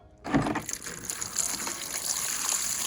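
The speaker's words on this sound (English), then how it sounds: "I'm gonna dump a few buckets of water through it to rinse all the crap off" Buckets of water are dumped outdoors to rinse rusty tools. A sudden splashing gush starts the pour, then a steady run of water trickles and drains, fairly close.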